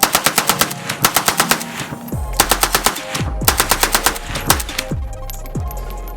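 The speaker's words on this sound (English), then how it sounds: "got a Battle Arms development Thumper brake on it to go with the concept, paratrooper stock, and M-lock wood grips on there" An AK-47 rifle with paratrooper stock and a Battle Arms Development Thumper muzzle brake fires loud, rapid bursts outdoors, several strings of sharp shots with booming echoes trailing off between them.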